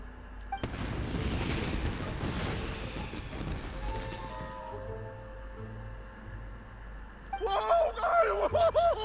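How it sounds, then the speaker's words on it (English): Firework bursts in the video game Genshin Impact, with loud broadband booms and crackle filling the first few seconds, then fading into tonal game music, with a voice speaking near the end. "Yoimiya, this is turning into a bit of a fireworks display"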